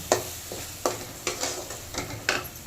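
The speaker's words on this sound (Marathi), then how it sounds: "बघा आपला मसाला चांगला परतत आलेला आहे" Masala for dal karela sautéing in a pan, a soft continuous sizzle broken by about six regular scraping stir strokes, close and moderately quiet, with no voices.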